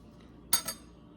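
A knife slicing through an air-fried hard-boiled egg on a plate, heard as one short crisp clink followed by a second softer tap, close and quiet against a near-silent room.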